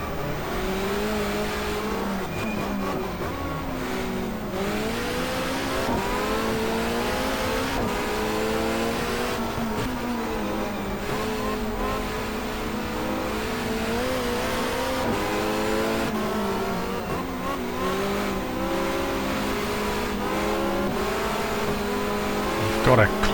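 A touring car from the 1994 Asia-Pacific Touring Car Championship in the GTR2 racing game revs hard and climbs through the gears, the engine note rising and dropping at each shift, loud and continuous with brief tire squeal.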